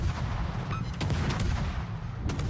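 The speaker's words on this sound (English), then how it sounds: "I might as well open up with my guns" Naval guns fire in World of Warships, a run of loud booming blasts with sharp cracks near the one-second mark and again near the end, rolling over dense low rumble with no talk.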